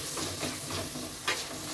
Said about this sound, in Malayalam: നമ്മളെ മീൻകറി വെക്കുകയാണ് കേട്ടോ. സവോളയും പച്ചമുളകും ഇട്ടത്.